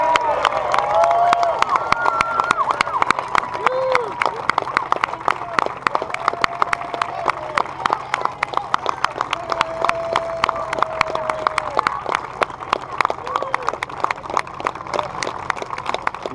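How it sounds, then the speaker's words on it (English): A crowd at a triathlon event claps and cheers for challenge athletes, with rapid scattered applause and whistles throughout, moderately loud and steady. "how about a round of applause for all of our amazing challenge athletes"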